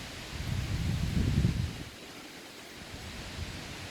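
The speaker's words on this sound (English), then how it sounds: "it is very windy" Wind blows steadily across an open sky on a cool, windy day, a soft broadband rush that swells briefly near the start, then settles into a fainter, even hiss with no voices.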